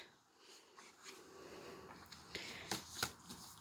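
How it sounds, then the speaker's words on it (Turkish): A book page is turned by hand, a soft papery rustle followed by a few sharper light flips and flutters, close and quiet. "Başka bir sayfayı çevir bakalım Miraç."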